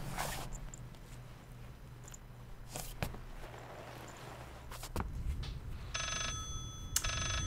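A telephone rings in the video game Layers of Fear after a stretch of quiet creaks and footsteps, the ring arriving late in two short bursts, clear and fairly near.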